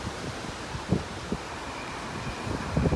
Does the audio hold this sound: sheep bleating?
no